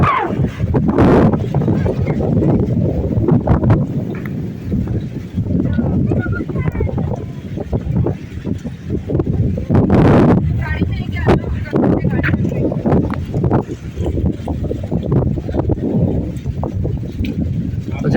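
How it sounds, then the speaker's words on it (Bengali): Strong wind off the Arabian Sea at Ras Al Khaimah rumbles and buffets the microphone in gusty bursts, with a few heavier blasts, under occasional voices. "অনেক বাতাস।"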